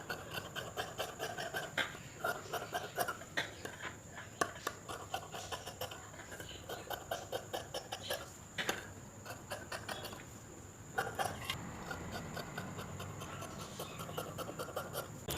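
Scissors cut through blouse fabric at close range in quick, regular rasping snips, with short pauses between runs of cuts and no talking.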